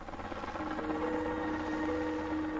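A helicopter carries a manager over the Alaska pipeline construction project, its engine whining and droning in a steady, moderately loud hum with a sustained tonal pitch and no voices.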